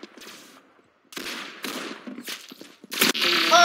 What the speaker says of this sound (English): I just got shot with something.